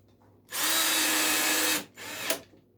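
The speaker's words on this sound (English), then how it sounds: "Screw this in here." A power drill drives a screw into a router table being modified, one loud close whir of about a second and a half, then a shorter burst ending in a sharp click.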